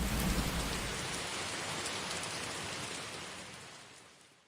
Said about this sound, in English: This rain seems like it will never stop.